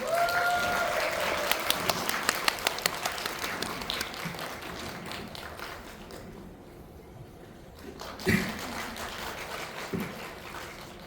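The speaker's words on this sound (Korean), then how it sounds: "큰 박수 부탁드리겠습니다." Applause from a cinema audience welcomes a film director and an actor onto the stage at a special talk event in a Megabox COEX theater. The clapping is moderately loud and fades over several seconds, ending in a few scattered claps.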